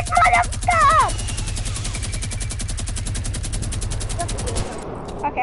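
Sustained rapid gunfire in the video game Fortnite, a steady stream of shots running for several seconds under a shouting voice before stopping near the end.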